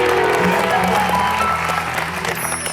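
A studio audience at a television game show claps in a dense, continuous burst of applause that stays loud and then eases slightly toward the end.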